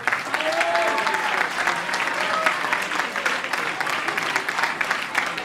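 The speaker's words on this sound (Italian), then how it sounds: "mi aspetto lo stesso applauso" A crowd at a provincial athletics awards ceremony applauding steadily, dense clapping throughout with no pauses, fairly loud and close.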